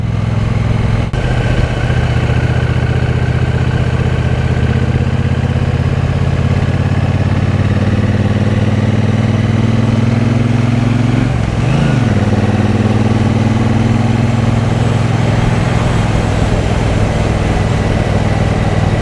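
A 2023 Triumph Bonneville Bobber 1200 motorcycle engine runs close and loud with a steady, throbbing idle, rising in a brief rev about two-thirds of the way through before settling back to the same low rumble.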